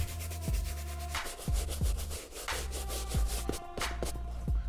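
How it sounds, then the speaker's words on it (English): Soft bristle brush scrubbing the upper of a Levi's Air Max 95 sneaker, giving close, steady rubbing strokes in a repeating rhythm with low thumps from handling the shoe. "I'm gonna use a soft bristle brush and scrub the entire upper gently in a circular motion."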